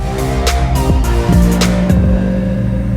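A car nicknamed Benny, set for a drag-and-drive event, pulls away with a loud, close engine rumble that rises in pitch as it revs through gears.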